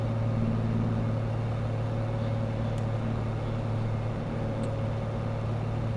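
A John Deere tractor in Farming Simulator 22 drives along a road while chopping sugarcane, its engine a steady low droning hum, constant and moderately loud, with faint brief clicks above it.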